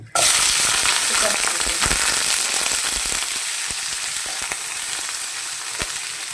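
Ground masala paste with cashews for green chilli chicken hits hot oil in a loud burst of sizzling that stays dense and crackling throughout, with scattered pops and utensil taps close by.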